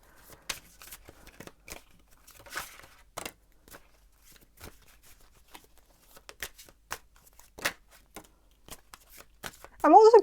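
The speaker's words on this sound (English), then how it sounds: "I'm gonna shuffle the cards and see what the cards have to say about your strengths" Tarot cards are shuffled close up in a quiet room, giving repeated crisp riffling and flicking bursts in an irregular rhythm, ending with a short snatch of talk.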